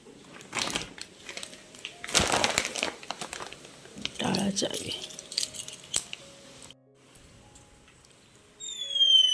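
Intermittent crinkling and rustling of a plastic shopping bag up close, in several bursts with quieter gaps between them.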